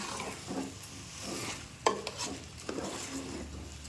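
Rice tossed into frying masala and stirred in a pan, repeated scraping strokes of a spoon against the pan over a soft sizzle, with a sharp knock partway through.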